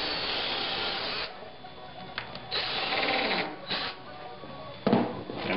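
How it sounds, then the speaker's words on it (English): A power drill countersinks a screw hole in the front leg of a wooden Adirondack chair, giving a steady close whirring drone across the clip, with short bursts and dips as the bit bites and eases off. "First we countersink the hole."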